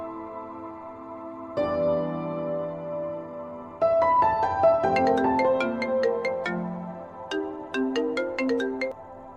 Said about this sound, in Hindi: इतनी रात को फोन कॉल?